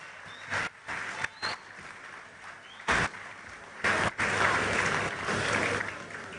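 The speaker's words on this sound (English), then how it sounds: "Please, another round of applause for our eminent lecturer." Audience applause for a lecturer at a university lecture series, a crowd clapping in broken bursts with brief dips between, rising into fuller sustained clapping toward the end.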